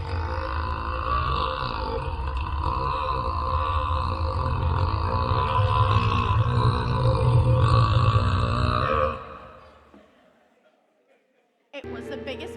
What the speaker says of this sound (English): It was the biggest burp I've ever done.